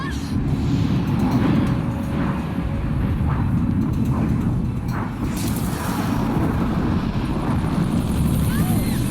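Helicopter from the film Sharknado, a loud sustained rotor and engine roar with low rumbling texture, heard under overlapping voices and effects.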